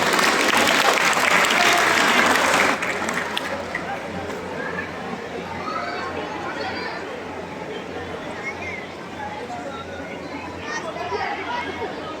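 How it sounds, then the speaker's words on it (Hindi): An audience at a drama performance breaks into loud, dense applause for a few seconds, which then falls to a thinner patter of clapping under chatter and murmuring voices. "सभी लोग तालियों से इसका स्वागत कीजिए"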